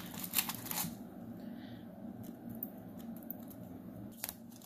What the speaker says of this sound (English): And you're just going to keep taping this around.